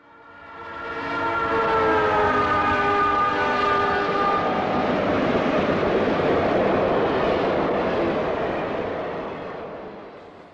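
Western Pacific Railroad trains run through the main yard in Oakland, a loud, steady rumble of rolling cars and engines with horn-like tonal blasts held throughout, swelling in and easing off at the end.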